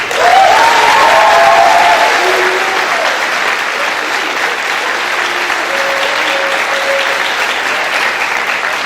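Sustained applause from a large audience at the WSE Class of 2019 graduation ceremony, loud and steady for the whole stretch with a faint murmur of voices mixed in.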